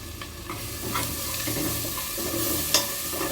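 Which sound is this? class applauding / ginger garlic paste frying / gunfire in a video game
ginger garlic paste frying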